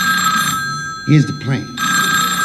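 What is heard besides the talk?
telephone ringing, comedy sketch sound effect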